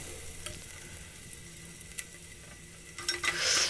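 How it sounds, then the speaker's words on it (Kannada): Oil sizzles softly in a pan while ingredients fry for sambar, a steady faint hiss with occasional small pops, swelling louder at the end. "ಫ್ರೈ ಆಗ್ತಾಯಿದೆ"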